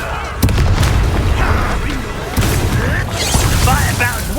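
Fiery Incendio spell blasts in a Hogwarts Legacy battle, loud booming bursts near 0.4 and 2.4 seconds amid constant combat din, with voices shouting over the fight.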